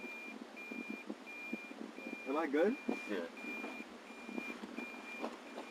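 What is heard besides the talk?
vehicle reversing beeps while backing up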